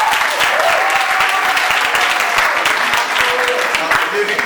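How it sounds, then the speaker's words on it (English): A seated audience at an academic–industry interaction event in an animal nutrition department breaks into steady, loud applause, a dense continuous wash of clapping that holds evenly throughout, with some faint voices mixed in. "Round of applause for yourself."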